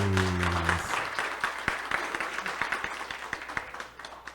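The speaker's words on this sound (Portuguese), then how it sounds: "Palmas pra eles!" Audience applause at a workplace safety week event about hand safety; a short held tone fades out at the start, then scattered, moderately quiet clapping builds, with individual sharp claps audible within it.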